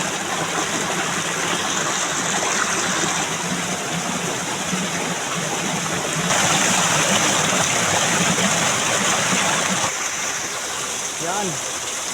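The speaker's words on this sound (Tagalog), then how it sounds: "Hagdan-hagdang falls lang guys." A clear stream runs down a stepped, tiered waterfall into a series of pools, a steady loud rushing wash of water with no break, rising slightly in force partway through.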